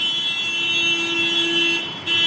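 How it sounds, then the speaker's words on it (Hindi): A vehicle outside gives off a loud, steady, high-pitched alarm-like tone that holds continuously, with a brief dip near the end before it resumes. "देखिए, गाड़ी वाला इतना तेज़ आवाज़ कर रहा है।"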